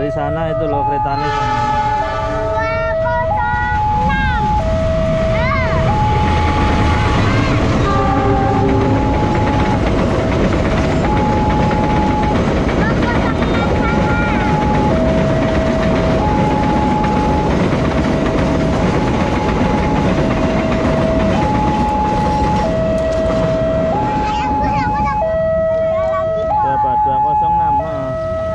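A train rolls past nearby at Lempuyangan Station, loud and continuous, while a repeating two-tone crossing alarm or bell rings throughout and a voice speaks briefly.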